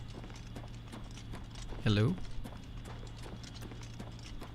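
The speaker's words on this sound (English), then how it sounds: "There is a horse out here." Horse hooves clip-clop steadily in a video game's open world, with a brief whinny standing out mid-clip; a voice speaks over the gameplay.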